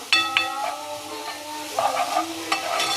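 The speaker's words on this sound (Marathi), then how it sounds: "आतां तेल गरम जालां, आतां पियाव घालता" Chopped onions hit hot oil for a Goan fish curry, giving soft frying crackle, a fresh sizzling burst midway and ringing clinks of a spoon stirring against the pan.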